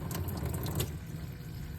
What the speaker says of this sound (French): faites venir à votre robinet l'eau chaude afin de bien mitiger l'eau